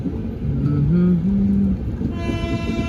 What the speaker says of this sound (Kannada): ಟ್ರೈನ್ ಏನೋ ಬರ್ತಿತ್ತಲ್ಲ